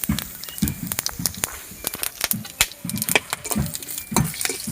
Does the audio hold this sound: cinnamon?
yes